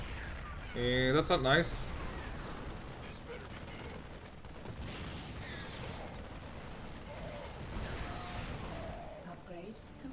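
Enemy tank fire pounds a Terran barracks in StarCraft II, a quick burst of explosive, metallic blasts followed by rumbling battle noise, while a voice speaks over the clatter.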